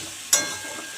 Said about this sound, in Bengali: এবার এটা কষাবো ভালো করে।